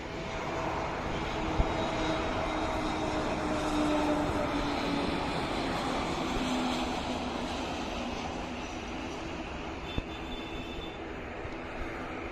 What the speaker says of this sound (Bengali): এটি এয়ারবাস A320 মডেলের বিমান। এই বিমানটি ভিস্তারা এয়ারলাইন্সের বিমান।